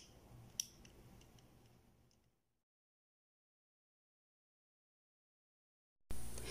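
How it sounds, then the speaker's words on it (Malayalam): Scissors make a single faint snip through leftover nylon thread while finishing a crystal bead necklace, followed by a little soft handling noise and then near silence. "ഇനി ബാക്കി വരുന്ന നൈലോണിൽ നിന്ന് കട്ടാക്കി കൊടുക്കാം."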